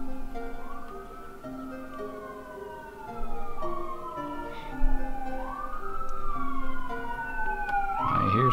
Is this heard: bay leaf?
no